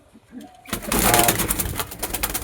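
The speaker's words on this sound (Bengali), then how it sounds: "এই যে এটা হচ্ছে মাদি কবুতরটা।" A female pigeon's soft cooing rises abruptly into a loud, close, dense flutter of sound that carries on for the rest of the moment, with no one talking.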